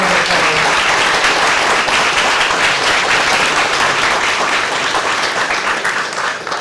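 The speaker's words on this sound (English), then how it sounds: "Let's give them a round of applause." Audience applause at a college ribbon cutting ceremony, a dense steady wash of many hands clapping that fills the whole stretch and tapers slightly toward the end.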